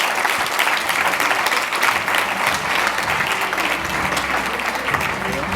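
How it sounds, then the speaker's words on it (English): An audience applauds change makers joining the stage at a forum in Auckland, a dense, steady wash of many hands clapping throughout, with a few voices mixed in. "give them all a big round of applause"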